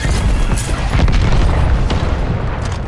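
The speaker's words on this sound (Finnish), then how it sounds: "Laitoin sinne pommi." A bomb goes off in a multiplayer shooter match, a loud, sustained deep boom rumbling with dense low-end energy for nearly three seconds, close and overpowering.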